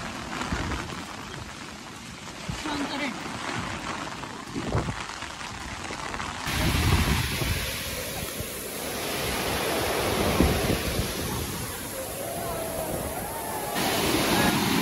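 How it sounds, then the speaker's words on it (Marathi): A small waterfall at a lake viewpoint flows in heavy rain, a constant broad hiss and splash with rain-like spattering; a voice talks faintly underneath. "हा आहे लेक पॉइंट आणि इथे बघा मिनी धबधबा"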